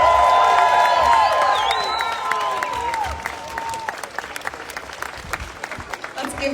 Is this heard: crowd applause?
yes